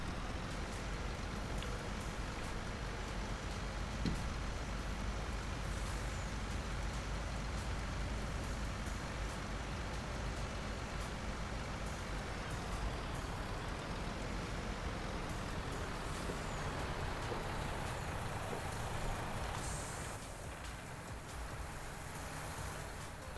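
An off-road truck drives in Farming Simulator 2019, a long steady engine and tire rumble with a broad, even roar, holding constant before easing slightly near the end.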